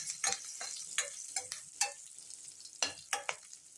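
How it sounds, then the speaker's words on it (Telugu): Green chillies and cumin seeds frying in a pan, soft sizzle beneath a series of sharp scraping stirs that come in irregular bursts, quiet and close with no talk. "తర్వాత ఒక 1/2 స్పూన్ జీలకర్ర వేసుకోవాలి. వీటిని కూడా వేయించాలి."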